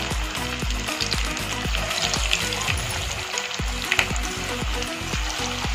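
Marinated baby potatoes fry in very hot oil with a loud, continuous bubbling sizzle that holds steady throughout, close and unaccompanied by talk.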